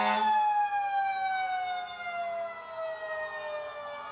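A traditional fire engine, Engine 4 of a forest fire rescue company, sounds its siren during a civic parade. A loud, steady wail slowly falls in pitch and holds, with no talk over it.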